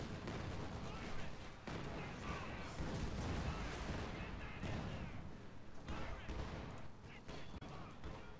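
Suppressing fire in Company of Heroes 2, a World War II strategy game. Rattling machine-gun bursts mix with booming artillery in a dense, continuous battle din, with faint voices mixed in.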